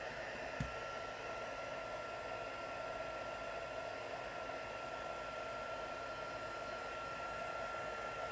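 Heat tool blowing steadily to dry a watercolor stamped card, a continuous close whooshing hum with a faint tonal whine, unchanging throughout with a small click near the start.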